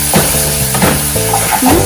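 Chopped tomatoes sizzle as they are sautéed in a pan for rajma, with steady frying hiss and a few scraping stirs of a spoon, close up and with no talking.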